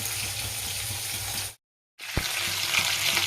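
Gaanthi potatoes fry in a wok with a cumin tempering, giving a dense, steady sizzle close up. The sizzle cuts out abruptly for a moment, then resumes with a light metallic clink.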